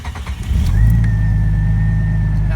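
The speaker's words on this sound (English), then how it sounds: "this one cranks forever before it starts, and the fuel pump kicks on" A Jeep Cherokee engine cranks steadily and loudly, then catches and settles into a continuous running drone with a faint fuel pump whine above it, no talking.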